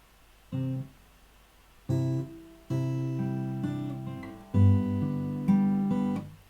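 A fingerstyle acoustic guitar plays slow measures of a piece from Final Fantasy X: five separate plucked chords and notes ring out alone and close, each left to sustain before the next.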